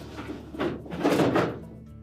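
A Whirlpool refrigerator pantry drawer slides along its rails and is pushed shut with a soft thud, close by, no voices.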